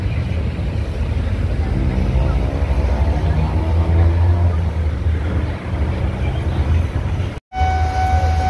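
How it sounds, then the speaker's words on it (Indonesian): A passenger train running from Tanjung Priok toward Jakarta Kota station passes close by near a stadium construction site in Jakarta, with a loud, steady rolling rumble and wheel noise that cuts out briefly near the end. "Kita lihat ada kereta yang melintas"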